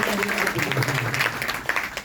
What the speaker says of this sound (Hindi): तालियां बजाओ तो सब बजाएगा